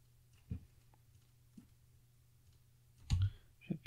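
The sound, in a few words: pressing the Enter key and clicking the mouse while editing in Inkscape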